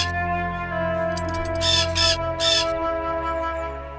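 A parrot lets out two loud, harsh squawks in quick succession, close by, over a steady tonal hum of background music.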